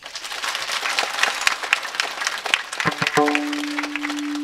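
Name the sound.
audience clapping at a kirtan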